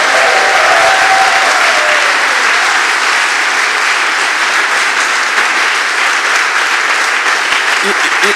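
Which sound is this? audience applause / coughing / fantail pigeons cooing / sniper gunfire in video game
audience applause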